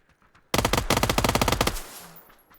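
Rapid burst of SMG VSS automatic fire in a competitive video game match, a loud, close, sustained string of shots lasting over a second, then a fading tail.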